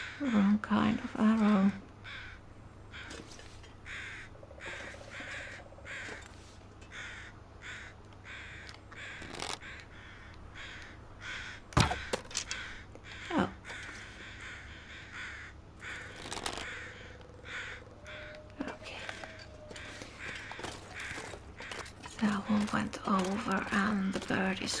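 Crows cawing in The Long Dark survival game, scattered harsh calls repeating over about twenty-five seconds against a steady ambient background, with someone talking at times over them.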